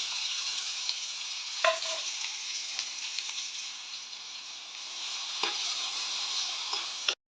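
Chopped onions and garlic fry in a pan, a soft, even hiss running throughout with a couple of brief clatters of a spoon stirring, fairly quiet and close.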